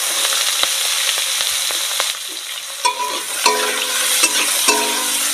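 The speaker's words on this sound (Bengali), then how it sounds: "পেঁয়াজটা একটু ভালো করে নেড়ে চেড়ে নেব" Chopped onion frying in oil while being stirred in a pan during village-style cooking for a katla fish curry: a steady close sizzle with repeated scraping and clinking stir strokes, loudest in short bursts toward the end.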